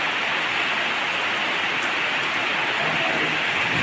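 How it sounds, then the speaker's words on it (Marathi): Pre-monsoon rain falls near Pune, a steady wash of even hiss that stays level and unbroken, with no voices present. "आणि हा सुरू असलेला पाऊस"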